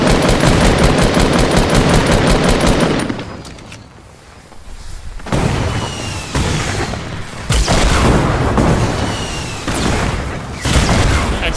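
Heavy gunfire and booming blasts from a Fortnite squad match, including a grenade explosion, loud and close, with rapid bursts, a brief lull, then renewed crashing shots.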